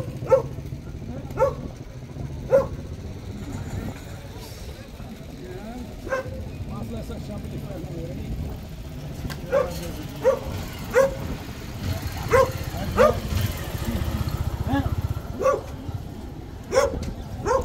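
Sharp dog barks ring out repeatedly at irregular intervals over busy outdoor street market noise and talking in Desterro, Paraíba, Brazil, growing more frequent toward the end.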